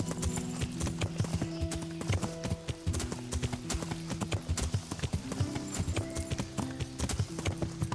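Steady clip-clop of horse hooves trotting over a constant background of game music in Kingdom Come: Deliverance, with no talking.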